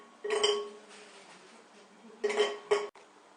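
Chocolate pieces dropped into a bowl set over water for a bain-marie, with a few clinking knocks of utensil against the dish in two separate bursts and quiet gaps between.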